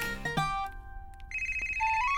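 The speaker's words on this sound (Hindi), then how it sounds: "लगता है नेहा को फोन आया" A phone ringtone plays indoors, a bright electronic melody of tones that rises and changes pitch, clear and close with no talk over it.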